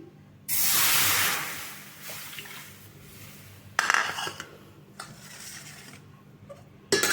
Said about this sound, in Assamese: এইখিনি মই কেৰাহীত ঢালি দিম।